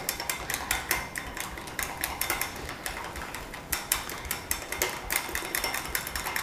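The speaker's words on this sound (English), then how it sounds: "you can do that by carefully whisking in the milk a few drops at a time" Whisk beating milk into eggs a few drops at a time in a bowl, making a fast, steady clatter of rapid metallic taps against the bowl, close and continuous, with no talk.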